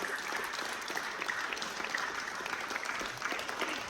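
A talent show audience claps steadily for a contestant, a dense, even roar of applause that holds at the same level throughout with no voices on top.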